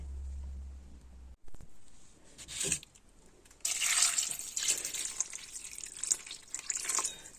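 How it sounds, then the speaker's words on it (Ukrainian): Water pours and splashes into a pot of potatoes and cabbage for borscht, a faint hum cutting off before a trickle, then a steadier, louder stream filling the pot alone. "Заливаємо водою"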